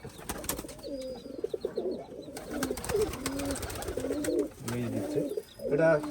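Several pigeons, colour-matched pairs of Rajshahi Giribaz high-flying pigeons, coo repeatedly in overlapping low, throaty phrases, fairly close and continuous.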